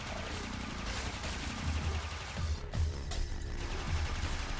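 Rapid automatic fire from the Akstiletto Prime in Warframe, a dense continuous barrage of shots with heavy low thumps and crashing impacts layered over game noise, loud and unbroken throughout.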